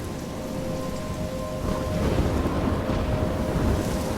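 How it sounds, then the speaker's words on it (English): Steady heavy rain and a low rumble of thunder in a thunderstorm in the video game Life is Strange, a continuous dense wash that swells slightly midway, with no voices. "I'm trapped in a storm?"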